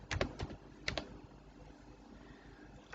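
Someone types on a computer keyboard, a quick cluster of soft key clicks at the start followed by a few more taps, then quiet room noise; faint and fairly close, with no voices.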